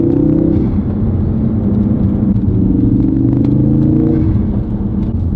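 Steady Ford Focus RS/ST engine drone with rumble, rising in pitch as the car accelerates through gears, with a faint whooshing turbo intake hiss through an aftermarket green intake filter, no talk.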